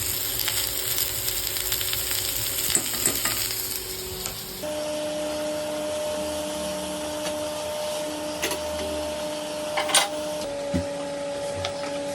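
Sliced potatoes frying in a pan with a little salt and chopped onion, giving a steady, close sizzling hiss that runs the whole time with occasional small crackles and clatters.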